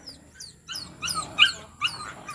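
A litter of four puppies yips, barks and whimpers in quick high-pitched bursts, several overlapping close by, with no talking.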